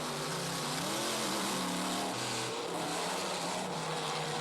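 The Bigfoot monster truck's powerful engine roars and revs continuously at a distance at a monster truck event, its pitch rising and falling as the truck drives.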